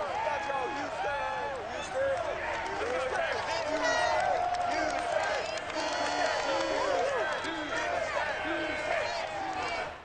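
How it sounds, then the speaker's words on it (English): A stadium crowd in Madden NFL 22 roars and cheers for the Texans against the Cardinals, a continuous loud swell of voices with scattered whistles and shouts, while a commentator speaks over it. "this crowd enthusiastically cheering on their Texans as they emerge from the locker room"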